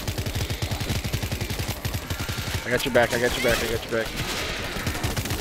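Sustained rapid gunfire from World War Z churns under excited voices calling out to each other, steady fast shots that keep going through the whole stretch.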